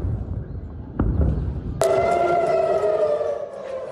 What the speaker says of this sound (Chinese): 以色列台拉维夫周四再度响起空袭警报